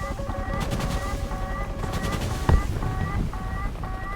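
Missile launched from an AH-1W Cobra attack helicopter in War Thunder: one sharp launch burst midway over a steady engine and rotor roar, with repeating electronic lock-on beeps in between.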